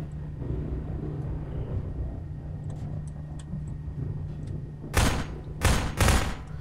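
Gunfire in the game Prop Hunt: a few loud, sharp bursts of shots near the end, breaking through a low steady hum and faint scattered clicks.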